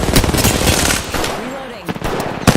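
Machine gun fire in a video game, loud close bursts of rapid shots with sharp cracks, a voice talking briefly in the middle.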